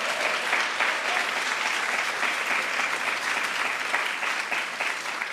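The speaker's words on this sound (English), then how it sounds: "Give yourself a round of applause." An audience at a White House conference hosted by the President and First Lady breaks into steady, even applause, many hands clapping continuously without pause from start to finish.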